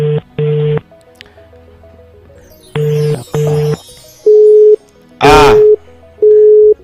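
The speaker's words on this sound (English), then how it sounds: "Okay, it's ringing." Outgoing telephone call heard over a radio broadcast: repeated electronic ringback tone bursts, paired and then single, alternating with brief silences, with a short voice burst in between.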